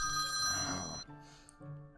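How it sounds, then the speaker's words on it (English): A telephone rings in a Minecraft roleplay set in Fredbear's Family Diner, two electronic ring bursts separated by a short pause, fairly loud and clear. "could you answer that phone?"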